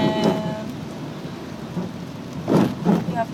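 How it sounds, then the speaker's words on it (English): Heavy rain pours steadily outdoors in a flooded small town, with a dense hiss filling the scene and a couple of louder swells where the downpour intensifies. "it's really raining outside"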